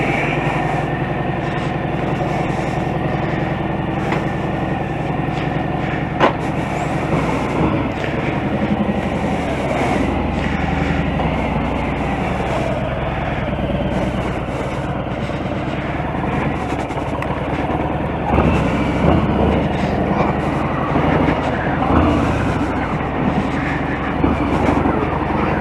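A motorcycle with a fat bulb engine rides around the block, its steady, loud engine drone mixed with wind rumble and no pauses.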